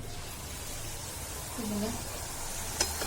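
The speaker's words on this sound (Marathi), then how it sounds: "आता एक तळायचं आणि ते दागिने तळायचं अशा पद्धतीने तळून घ्यायचं आपण" Kadakani, Maharashtrian sweet fried dough ornaments, frying in hot oil with a steady soft sizzle throughout, a brief swell of bubbling midway and a short clink near the end.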